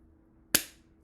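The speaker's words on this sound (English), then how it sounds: "can you clap one time?" One sharp hand clap rings out alone in a quiet room, crisp and close, with a short fading tail.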